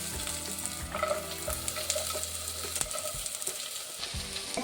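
Onions, green chili, curry leaves and chopped okra sizzle and fry steadily in a hot pan, with soft stirring scrapes and clinks over a continuous crackle and no voices.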